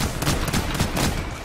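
Rapid, dense gunfire in the video game Vermintide 2, a loud continuous volley of overlapping shots with no speech over it.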